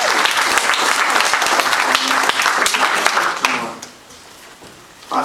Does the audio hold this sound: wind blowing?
no